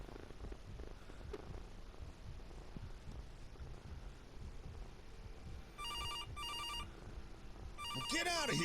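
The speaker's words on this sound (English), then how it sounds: "Okay, go and answer the phone." In the horror game CASE: Animatronics, a telephone rings in short repeated electronic bursts near the end. Before the ringing, a cat purrs and low ambient rumble fills the room, with voice heard under it.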